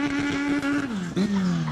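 Turbocharged B-series Honda against a Honda Fit RS at a drag race, engines droning loud and steady with a sustained revving tone that dips and climbs again, with faint tire squeal.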